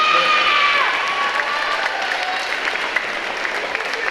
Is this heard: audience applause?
yes